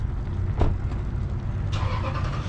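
Cars passing on a road near a stop sign while an adult and a child ride bicycles through traffic; a steady low traffic rumble with a brief swish of a passing car, then another car rushing by close and fairly loud.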